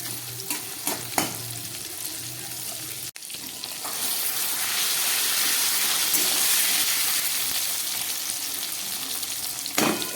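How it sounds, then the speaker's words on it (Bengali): Salted potato pieces drop into hot oil in a pan. A few clinks lead into a loud burst of sizzling that swells and holds steady, close by, with no voices. "এবার আমি এই তেলের মধ্যে আলু ভাজাগুলোকে দিয়ে দিচ্ছি"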